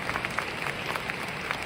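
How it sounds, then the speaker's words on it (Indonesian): Audience applause for Miss Claudia at a seminar, a steady patter of many hands clapping, moderately distant and fairly quiet, running unbroken for under two seconds. "Kita pantas beri tepuk tangan meriah untuk Miss Claudia."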